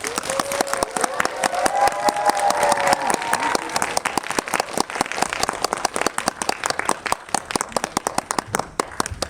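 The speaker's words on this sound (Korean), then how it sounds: "박수로 맞아주십시오." Audience applause greeting the director and actors at a Korean film screening Q&A, a dense burst of many hands clapping that starts strong and thins toward the end, with a few faint whoops early on.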